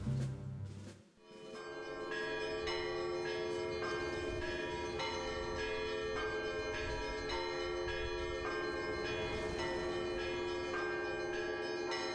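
Church bells ring continuously, several bells struck in an overlapping steady peal with ringing tones sustained throughout, after a brief low sound at the start; no voices.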